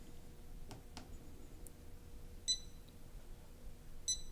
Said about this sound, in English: An audible beep will be heard, alerting us that the measurement is started